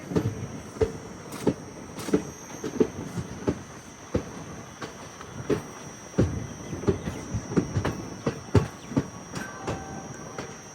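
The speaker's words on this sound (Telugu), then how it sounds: "ఆ ట్రైన్, వెళ్ళిపోతుంది." An intercity train running from Coimbatore to Tirupati passes on the adjacent platform, its wheels making irregular rhythmic clacks and thumps over rail joints at moderate distance, steady for the whole stretch without talk.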